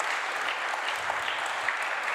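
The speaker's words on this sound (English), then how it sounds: "Can we just have a round of applause, please?" Steady audience applause after a fireside chat at a games industry event, a continuous wash of clapping from a moderate-sized crowd at even volume throughout.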